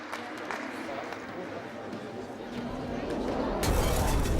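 Crowd at a UK strongman competition applauding after a competitor's seven-repetition effort, a steady broadband wash of clapping and cheering that swells louder near the end.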